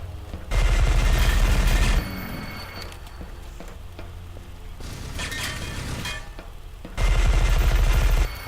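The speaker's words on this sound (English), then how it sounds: "Wow, explosion." Explosions erupt in the first-person shooter E.Y.E, heavy booming blasts with rumbling debris that swell, fade, then return in a second loud burst.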